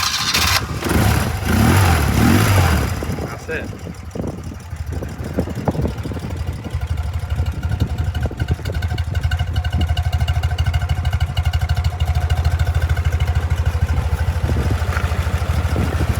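A 1980 BMW R100RS 980cc motorcycle engine cranks and starts with a loud rumble, then settles into a steady, even idle nearby; a voice briefly speaks over it.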